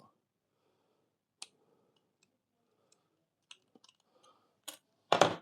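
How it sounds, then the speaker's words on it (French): A small cutter snips and clicks on plastic model kit parts for Captain Harlock's Arcadia ship, trimming excess plastic in sparse, sharp, close ticks with quiet gaps, ending in a louder scrape. "Il faut les nettoyer quand même avec un petit cutter"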